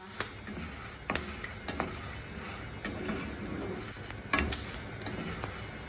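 Ethiopian coffee beans roasting on an iron pan give off scattered sharp crackles and pops over a soft background rustle, with occasional light scraping or clinking.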